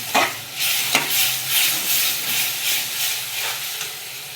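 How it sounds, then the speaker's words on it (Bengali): Masala being sautéed with a little water in a pan for a Bengali fish curry: steady close sizzling and steaming hiss with occasional scrapes and stirring clatter, no talking. "জলটাকে দিয়ে এখন একটু কষাবো।"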